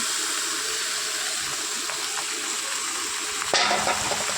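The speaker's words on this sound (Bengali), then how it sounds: "চিকেনটাকে আমি পুরো দিয়ে দিলাম" Marinated chicken hitting hot oil in a home kitchen pan for chicken kosha, a steady broad frying sizzle with a brief louder burst of spattering near the end, no talk over it.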